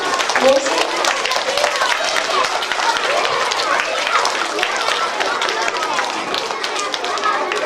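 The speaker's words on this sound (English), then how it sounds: "Can we have a big round of applause?" Round of applause from children at a storytelling workshop, a dense burst of close clapping that runs steadily throughout, with voices mixed into the crowd noise.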